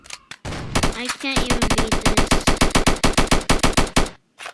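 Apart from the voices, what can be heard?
gunfire in a defend-the-train video game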